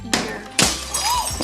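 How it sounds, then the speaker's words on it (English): A glass table shatters as a boy falls onto it: a sharp crash near 0.1 s, then a second loud smashing burst near 0.6 s, with tinkling debris and faint voices. "one of them falls onto the glass table and it breaks"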